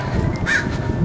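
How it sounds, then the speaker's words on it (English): A crow gives one short caw outdoors, heard against wind noise. "And then a crow."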